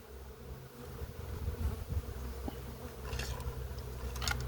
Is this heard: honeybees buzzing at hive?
yes